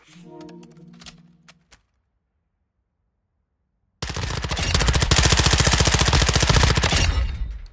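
Sustained rapid automatic gunfire in Call of Duty Modern Warfare, a dense, loud burst of shots lasting several seconds after a brief stretch of other game sounds and a silent gap.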